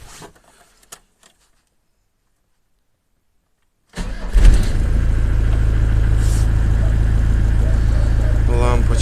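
An Iveco Daily diesel engine, freshly repaired with a new lift pump, oil and filter, cranks briefly and catches, then settles into a loud, steady idle running continuously close by after a few seconds of near silence.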